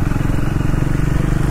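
Triumph Speed 400 scrambler motorcycle riding, a close, steady low engine thrum with a rapid pulsing beat, no speech over it.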